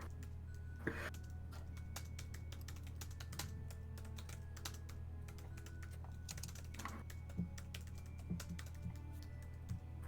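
Steady typing on a computer keyboard during an online tabletop game session, a faint continuous patter of quick light key clicks with occasional sharper taps over a low hum.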